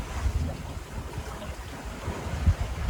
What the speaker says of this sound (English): So we're sailing at 5 knots upwind